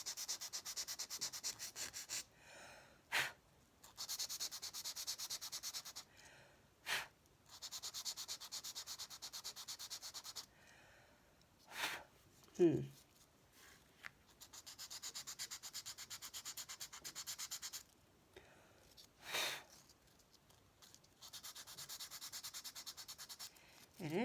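Sandpaper rubs steadily against a surface to erase marks, a dry scratchy hiss in long strokes broken by short pauses and a few light knocks, close and fairly quiet.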